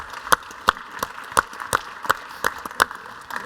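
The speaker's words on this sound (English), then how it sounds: "So I just like everyone to give Jake a round of applause for what he accomplished" Sparse applause at a state and federal policy roundtable: a handful of distinct, evenly spaced claps, as if from only one or two people, close by and moderately loud, with no talk over them.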